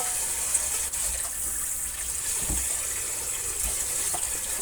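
Tap water runs steadily into a kitchen sink while food is rinsed under it, a continuous broadband gush with a few soft knocks and splashes, fairly close and with no voices.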